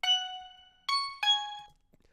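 Three bright, bell-like synthetic steel pan notes, clear and close, each struck with a sharp attack and ringing out with shimmering overtones.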